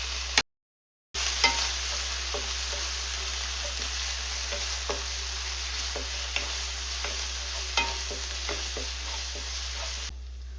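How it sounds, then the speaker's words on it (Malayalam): Crushed ginger, garlic and green chili sizzle steadily in hot oil while a spoon scrapes and stirs in regular strokes, close and continuous with no voices, for a Kerala-style duck mappas. "ഇഞ്ചി ക്രഷ് ചെയ്തത്, വെളുത്തുള്ളി ക്രഷ് ചെയ്തത്, പച്ചമുളക് ക്രഷ് ചെയ്തതും ചേർത്ത് നന്നായിട്ട് ഒന്ന് ഇളക്കേണ്ടതാണ്"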